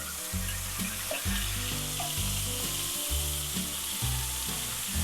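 Filet mignon sizzling and searing in a hot pan after being flipped, a steady loud crackle with low pulsing tones underneath, no talking.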